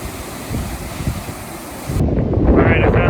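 Wind gusts buffet the microphone beside a small mountain stream at a bridge in the Sierra Nevada, a loud, steady rushing roar that grows stronger toward the end.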